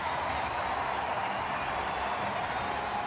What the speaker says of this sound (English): here comes the crowd. You like to hear that crowd backing their Twins